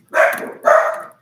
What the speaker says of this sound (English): Dogs. Stop barking.